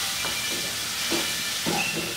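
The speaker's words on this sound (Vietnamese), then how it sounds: "ta bắt đầu bỏ tôm vô xào các cháu ạ" Shrimp stir-frying with garlic in a pan over low heat, a steady close hiss of sizzling with a few soft clatters of stirring.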